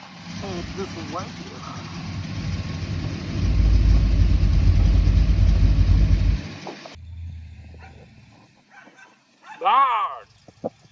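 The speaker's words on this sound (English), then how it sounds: "Dog!" Dog barking near a Ford F100 truck stuck in a wet ditch, with the engine rumbling loudly and then cutting off; a few sharp barks follow close by near the end.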